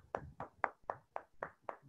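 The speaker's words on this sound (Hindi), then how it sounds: "जबरदस्त तालियों के साथ सर का" A few rhythmic claps, about seven evenly spaced strikes over two seconds, fairly faint and distant, for a speaker wrapping up the third day of a training session.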